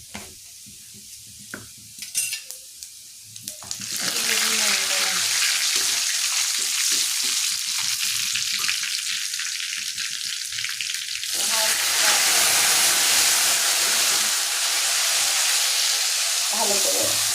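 Whole cumin seeds hit a hot frying pan and burst into a loud, crackling sizzle that runs continuously after a few seconds of quieter pan clatter, then swells briefly louder near the end.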